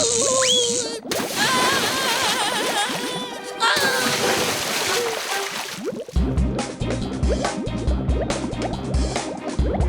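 Cartoon water splashes and liquid sloshing come through in bursts with dripping and filling sounds, loud and near, changing abruptly in character partway through.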